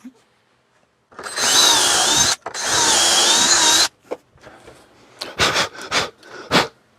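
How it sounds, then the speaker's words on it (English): A power drill bores two pocket holes through wood held in a Trend pocket hole jig: two loud, sustained whirring bursts with a short pause between, followed by several brief clattering knocks. "Drill my 2 holes."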